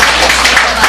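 Audience applause in a lecture hall at a brand forum: a dense, continuous wash of clapping for two people just introduced, steady and fairly loud throughout the short moment.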